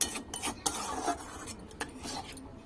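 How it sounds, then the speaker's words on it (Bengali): Spoon stirring doi potol, a yogurt gravy curry of pointed gourd with garam masala, in a pan: soft scraping and a few light clinks against the metal, quiet and close. "এবং ভালো করে নেড়ে চেড়ে নেব।"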